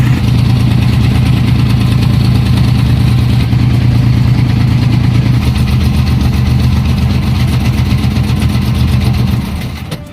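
Service boat engine near Masinloc port running at a steady loud idle, its low throbbing hum holding for several seconds before it is switched off and fades out at the very end.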